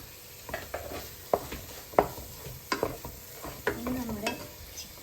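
Chicken masala with kabsa spice and ground coriander sautés in a pan, a faint sizzle beneath intermittent sharp scrapes and clinks of a spoon stirring against the metal.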